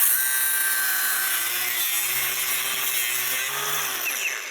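A power tool with a cutting disc grinds steadily through a fused nut and bolt on a Jeep Wrangler, a loud continuous high-pitched whine with a low motor hum beneath, no talking.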